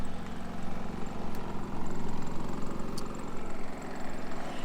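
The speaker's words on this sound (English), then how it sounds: "Sorry about the generator." A portable generator hums steadily beside a 2019 Palomino Puma XLE Lite toy hauler travel trailer, a constant low engine drone running unbroken throughout with no voices over it.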